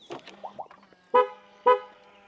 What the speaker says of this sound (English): if you close the car, let's lock it, and listen to the sound it makes when you lock it